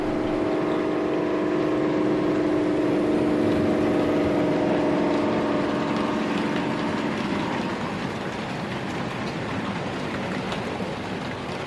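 The DP1 DELTIC prototype diesel locomotive, forerunner of the British Rail Class 55s, runs with a loud sustained engine drone and rumble that thins and fades toward the end, with no voices.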